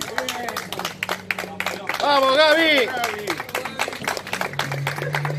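Applause and clapping for a departing river pilot at a Buenos Aires port farewell, steady dense claps mixed with crowd cheering and a chanted name, people shouting over it throughout.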